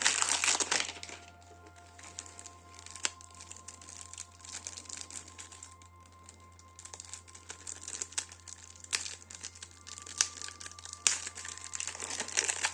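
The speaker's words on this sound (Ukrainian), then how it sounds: "Відкриваємо нашу з вами колоду." A plastic wrapper is peeled off a Keyforge card deck, with sharp crinkles and crackles coming in bursts that are loud at the start and sparser and quieter later. The handling is close to the microphone.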